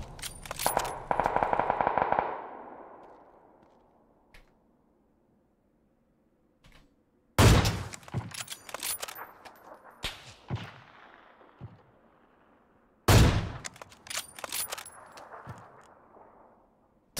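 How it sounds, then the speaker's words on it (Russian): Gunfire in the video game PUBG: a rapid burst of shots, then two separate loud sharp reports, each trailing off into echoing tails and clatter, with quiet gaps between. "давайте нормально прицелимся и выстрелим"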